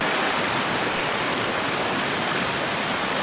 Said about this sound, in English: the stream continues to flow